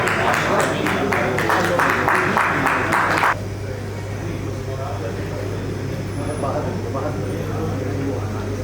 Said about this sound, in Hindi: एक बार जोरदार तालियां गोपाल भाई जी के लिए।